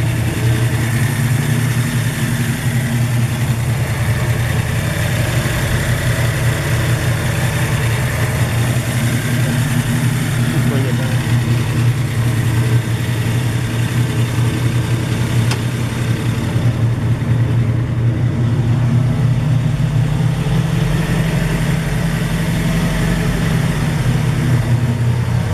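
Rebuilt Windsor V8 with a big four-barrel carburetor idling in a 1968 Ford Mustang convertible hot rod, a deep, steady, even rumble held loudly and continuously throughout with no talking.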